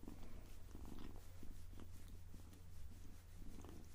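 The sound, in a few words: Ragdoll kitten purring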